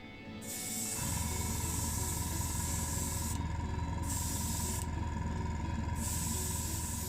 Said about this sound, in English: I'm going to go on with a light coat to start